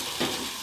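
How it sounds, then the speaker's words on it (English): Rosemary chicken and lemon rice sizzling in a hot pan as it is stirred, a brief scraping swirl over a steady frying hiss. "I'm gonna stir it well. Make sure it doesn't burn"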